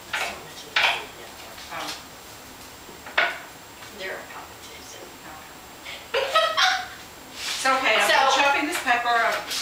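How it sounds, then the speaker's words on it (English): Knife chopping chili and jalapeno peppers on a kitchen board: scattered sharp chops, then a fast dense run of cutting near the end, with a person talking in between. "I'm using my chopping technique"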